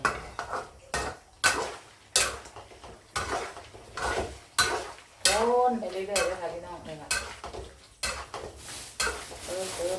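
Metal utensils scrape and clank against a large new pan in irregular strokes while pork fat bubbles and simmers underneath, close and fairly loud.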